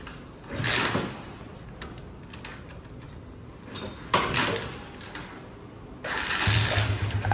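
A motorcycle that will not start is kick-started several times, giving repeated mechanical strokes and clunks that come in separate bursts with quieter gaps between them.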